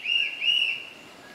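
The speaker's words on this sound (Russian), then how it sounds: "Это там свистят, боятся медведя увидеть" Hikers in a forest, whistling to scare off bears, give two high whistle notes in quick succession that fade out, faint and distant, with no talking.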